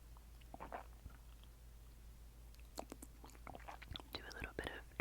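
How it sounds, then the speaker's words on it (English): Soft, close sips of hot oat-milk cocoa from a mug, a few quiet slurps and swallows scattered over about five seconds in a calm, hushed setting with a faint background hum. "sipping sounds for you."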